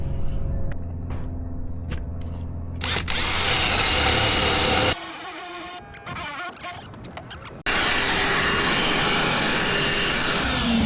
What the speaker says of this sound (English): we gotta drill a big hole